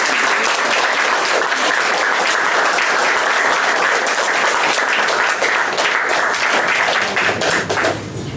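Loud, continuous applause from an audience in Marseille cheering on performers, many hands clapping in a dense, even roar that thins out briefly near the end.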